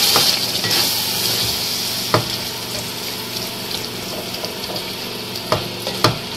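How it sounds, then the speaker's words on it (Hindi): Yogurt is stirred into chicken and whole spices frying in a pot, a loud steady sizzle with wet bubbling and several knocks of the spoon against the pan. "दही को इसमें मिक्स कर लेंगे अच्छे से"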